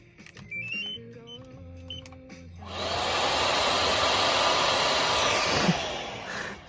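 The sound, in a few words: hair dryer running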